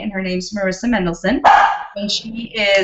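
A small dog barks and yips repeatedly in the background of a live online broadcast, several sharp barks mixed under a person talking.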